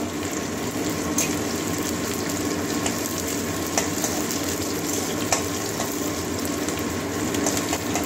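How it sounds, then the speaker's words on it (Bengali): Steady, dense sizzle of onions frying in hot oil, continuous and close, with a few faint clinks and scrapes scattered through. "পেঁয়াজটা একটু ভেজে নেবো কাঁচা গন্ধ যাওয়া পর্যন্ত"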